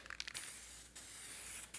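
Aerosol can hissing in a steady close spray on a car while hunting for oil leaks, a faint continuous hiss with brief bursts near the start and no talking.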